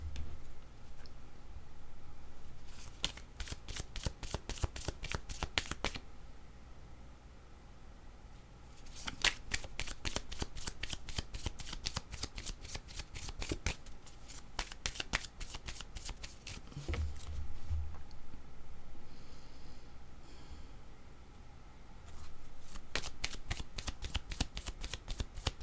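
A deck of cards is riffle-shuffled repeatedly near the mic, bursts of rapid fluttering clicks separated by short pauses, with no talk.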